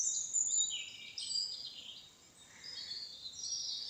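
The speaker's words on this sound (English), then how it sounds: "You can hear the birds, the wind," High, thin birdsong trills and chirps from several birds in a quiet forest, fairly faint and distant, over a quiet outdoor background with wind.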